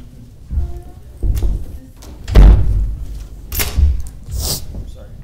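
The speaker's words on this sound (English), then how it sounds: "Slamming doors on people now?" A door slams at a press conference after a men's basketball game against Bowling Green, with several sharp thumps sounding close amid murmuring voices and room chatter.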